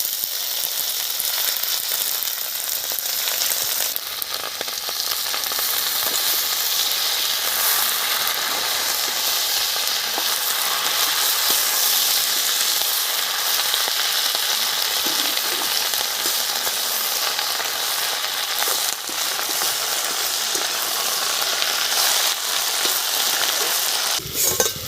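Fresh garden spinach dropped into a pan with fried potatoes, giving a loud, dense, continuous sizzle and hiss that holds steady for the whole stretch, close by with no talking.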